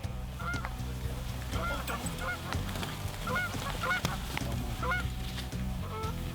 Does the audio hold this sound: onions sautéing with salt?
no